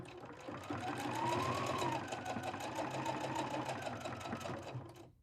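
A sewing machine runs steadily, stitching a seam on a quilt block with a fast, even mechanical rattle that starts, holds for several seconds and winds down at the end.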